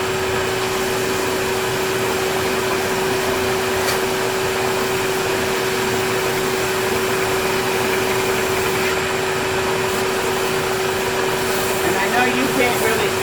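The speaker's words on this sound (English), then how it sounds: "when I turn on the vacuum and turn on the machine, I should be able to sand" Ridgid oscillating belt and spindle sander running together with a shop vacuum, a steady loud broadband roar with a constant hum, unbroken for the whole stretch.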